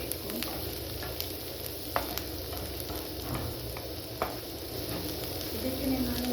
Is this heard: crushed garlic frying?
yes